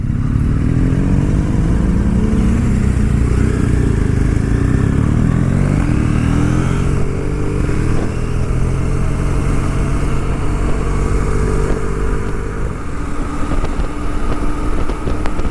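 A motorcycle rides on an adventure trip around San Felipe, Baja Mexico, its engine droning loudly and continuously with wind rush, pitch rising and settling through gear changes.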